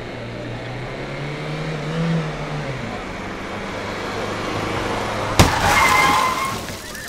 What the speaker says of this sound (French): On va passer à la deuxième reconstitution d'accident entre deux voitures.